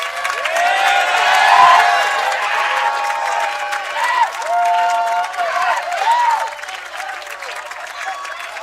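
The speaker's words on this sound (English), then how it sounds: "Give yourself a round of applause." Alumni stand at a charter day convocation, filling the hall with sustained applause, cheering and whoops from a large crowd, loudest early and tapering slightly toward the end.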